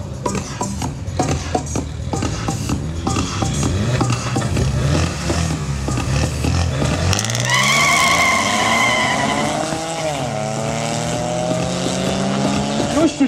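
A rally car's exhaust drones along as it drives. About halfway through, the engine note climbs and sweeps in pitch under acceleration and stays loud and steady, with voices talking over the earlier part.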